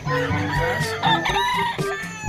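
Fighting cocks for sale at an outdoor animal market in Angeles, Pampanga, crow and cluck close by, with several overlapping calls in quick succession and a busy background.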